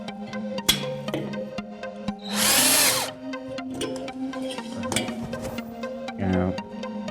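Power drill driving screws into wood while building a modern ornamented shanyrak for a house ceiling, with a loud whirring burst and clunks and knocks around it, close by.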